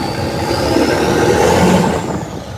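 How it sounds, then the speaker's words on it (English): A lifted custom truck's exhaust rumbles past as a loud, steady drone with a gradually rising whine, swelling toward the middle and fading near the end, heard alone without voices. "Listen to that exhaust"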